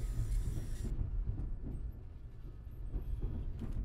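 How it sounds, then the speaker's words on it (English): A train in a video game rumbles past with heavy low clatter, its hiss cutting off early while the rolling rumble continues. "Oh, it's the train."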